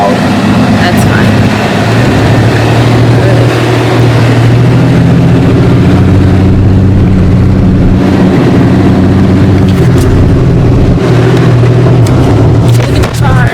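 A car carrying passengers drives along a scenic road in St. Croix on the way to the airport, its steady low engine and road rumble loud and continuous throughout, with voices talking over it.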